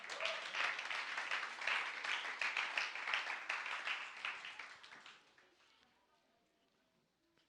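Congregation at a Korean church Sunday worship service breaking into sustained applause, a dense rippling wash of many hands clapping that gradually thins out and fades to near silence over the last few seconds.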